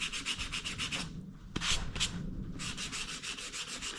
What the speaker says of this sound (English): it's got a foam block with some 400 grit paper on it. I'm just gonna start cross hatch sanding